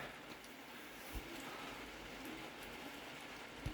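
Steady rain falling outdoors on a cold winter day, an even broadband hiss with a few louder drops, continuous and moderately loud throughout, with no one talking.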